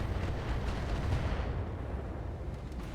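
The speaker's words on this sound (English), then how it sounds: "That was an incredibly good long tom hit." An artillery shell from a Long Tom gun lands in the RogueTech video game, a deep rumbling explosion with a dense, roaring low tail that slowly fades, loud and without talking.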